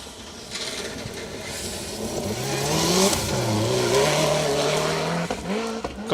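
A Subaru Impreza rally car drives a Welsh Championship rally stage, its engine rising and falling through gear changes as it accelerates past at close range, with a brief tyre squeal; no talk.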